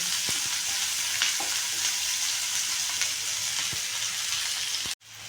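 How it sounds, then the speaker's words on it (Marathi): Sliced onion frying in hot oil until brown for a spicy village-style ridge gourd thecha, a steady close sizzle with faint scrapes of stirring, ending in a brief sharp cut near the end. "ब्राऊन कलर येईपर्यंत आपण हा तळणार आहोत आणि मग सर असा कांदा तळून घ्यायचा यामध्ये"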